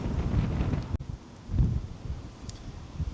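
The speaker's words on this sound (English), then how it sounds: "this wind is ferocious" Strong, gusty wind of about 40 to 45 mph buffets the microphone and sets old trees rustling beside a railway line, a steady low roar that swells and eases, close and loud, with no talking.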